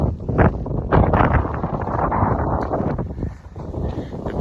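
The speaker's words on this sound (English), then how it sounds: "Still windy as hell." Strong wind in Sullivan County buffets the microphone in continuous loud, rough gusts, a low roaring rumble with no voices.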